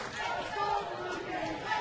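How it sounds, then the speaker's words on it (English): At a Pirates versus Blue Jays spring training baseball game, the crowd cheers and calls out in a continuous broad roar, swelling slightly in the middle, with a faint commentator voice underneath. "Crowd getting into this one,"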